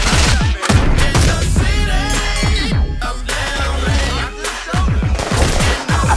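Heavy gunfire from a comedy movie trailer, with rapid machine-gun bursts and shots layered over music and effects, loud and dense throughout.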